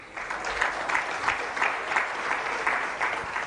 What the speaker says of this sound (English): kindly let us give the PS a big round of applause.